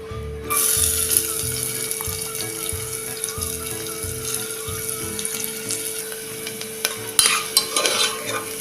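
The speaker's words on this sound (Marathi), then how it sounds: "आपण कांदा भाजायला एक दोन चमचे तेल टाकून घेणार आहे" Chopped onion frying in a spoon or two of oil inside a pressure cooker, the base for Kolhapuri mutton curry: a steady, close sizzle with stirring scrapes throughout and no talking.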